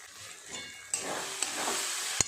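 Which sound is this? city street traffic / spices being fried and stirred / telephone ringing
spices being fried and stirred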